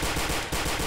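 Rapid automatic gunfire in Trouble in Terrorist Town, a dense burst of shots loud and close, with a short gap midway through.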